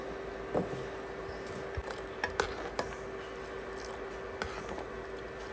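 Sugar goes into a pot of masala tea and is stirred, with scattered light clinks and taps of a spoon against the pot over a low, steady background hiss.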